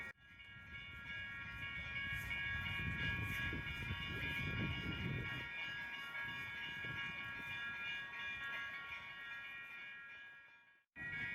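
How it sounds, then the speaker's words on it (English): A train stopped at a road crossing idles nearby with a steady mechanical drone and a low, rumbling engine, a sustained hum broken only by a brief drop near the end. "there's a train stopped and I have to cross the tracks"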